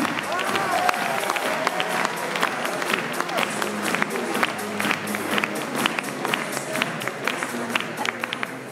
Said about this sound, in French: je vous demande de faire un tonnerre d'applaudissements pour le sénateur de Hauts-de-Seine, Roger Karoutchi.